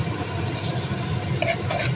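Onion and peppers frying in a pan, a steady close sizzle with a couple of quick stirring scrapes near the end.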